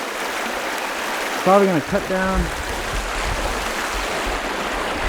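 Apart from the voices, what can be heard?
river flowing by a creek in the woods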